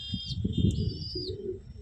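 Deep red kat Giribaj pigeons in a loft let out a brief, soft coo with a light chirp, faint and nearby.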